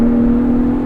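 Tires on a 2022 Ford Bronco Raptor drone loudly as the truck drives, a steady tonal hum over low road rumble inside the cabin, brief and constant.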